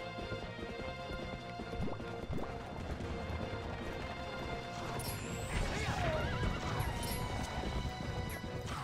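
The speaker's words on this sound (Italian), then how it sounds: "il cavallo è spaventato dalle bombe e sta andando fuori strada" A horse in The Legend of Zelda: Twilight Princess neighs and whinnies loudly while its hooves clip-clop at a gallop, with crashes of bombs and game music running underneath throughout.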